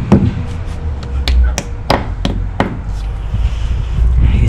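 Sharp repeated knocks and taps, about eight spaced hits, as screws are driven and fitted into a goose house under construction, with low background rumble and a voice at times.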